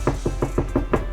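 Six evenly spaced knocks rap on a door in quick succession, close and fairly loud, with nothing else heard.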